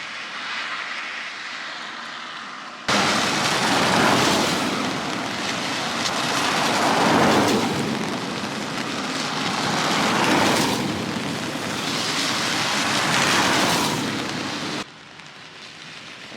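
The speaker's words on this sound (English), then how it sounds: "Lots of traffic, lots of rain today." Steady rain pours down along a road in rural Japan while traffic passes, the wash swelling and easing in waves, with a loud broadband hiss that cuts in and out like tires spraying past nearby.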